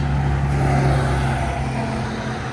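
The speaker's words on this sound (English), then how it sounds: "It's quite noisy and it's busy. Like, the cars drive by super fast." Steady traffic roar on a busy, fast road beside a rural property in South Africa, with engines and tire noise from passing cars sustained throughout at close range.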